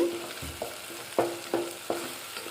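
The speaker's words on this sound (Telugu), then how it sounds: "ఇది కూడా పచ్చివాసన పోయే వరకు వేయించుకొని" Andhra-style drumstick and sweet potato curry fries in a pan, a soft sizzle broken by several evenly spaced sharp stirring knocks against the pan, close and fairly quiet, with no talk.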